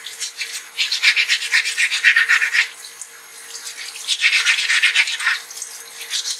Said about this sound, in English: So we want to sand all along the base.